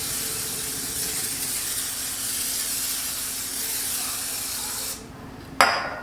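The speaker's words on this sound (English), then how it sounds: "And I'm going to spray them with some olive oil spray." Olive oil cooking spray hisses steadily onto green beans for about five seconds, a close continuous spray that cuts off and is followed by a brief short burst.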